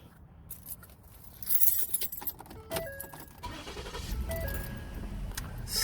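A Ford Explorer with a P1450 fuel vacuum fault is started with the key after a repair: keys jangle and scrape in the ignition, then the engine rumbles to life close by and keeps running.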